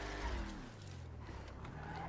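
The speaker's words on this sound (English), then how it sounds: "I'm going to ram into a wall." A car in the FiveM game rams into a wall, giving a low engine rumble with a brief tire-skid screech near the start and sustained motor noise throughout.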